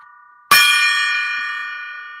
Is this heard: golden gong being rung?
yes